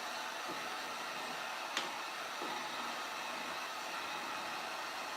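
A hair dryer blows a steady, faint whoosh of air over wet paint, running continuously with a couple of small knocks and no talking.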